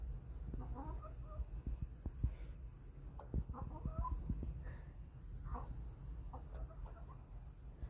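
A hen clucks in short, repeated bursts, fairly close, over a low rumbling background.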